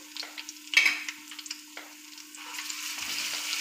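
Crushed garlic frying in a spoonful of hot oil for an instant onion pickle, a soft steady sizzle with a few brief stirring clatters and a rising hiss toward the end, close and moderately quiet with no talk.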